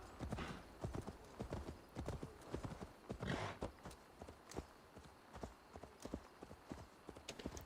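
Horse hooves clip-clop in a quick, uneven rhythm in Assassin's Creed Valhalla, fairly faint, with a brief whinny mixed in.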